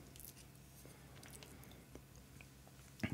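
Close-miked crunching and chewing of mixed nuts such as almonds, cashews, hazelnuts and peanuts, a quiet run of small bites and crackles ending in a louder crunch.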